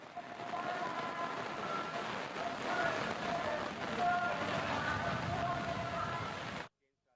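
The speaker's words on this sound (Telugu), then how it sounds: "తిరుమలలో భారీ వర్షం కురుస్తుంది." Heavy, steady rain falls at Tirumala, a dense even hiss of downpour on surfaces that carries on unbroken and then cuts off abruptly.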